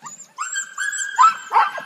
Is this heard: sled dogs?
yes